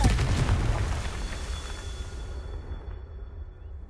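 A Confringo blasting spell from the Hogwarts Legacy video game bursts loudly at the start, a deep boom with a crackling rumble that fades away over the next few seconds.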